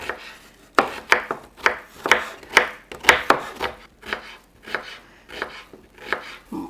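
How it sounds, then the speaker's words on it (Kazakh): A knife chops garlic on a board in rapid, uneven strokes, roughly a dozen crisp, close knocks with short pauses, while preparing lamb ribs cooked inside the skin. "Мен сарымсағын тураймын."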